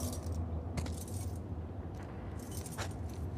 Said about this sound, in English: Want to try those keys?